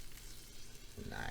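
Guanciale sizzling in a frying pan, a steady broadband crackle and hiss that swells louder toward the end, with faint background noise throughout.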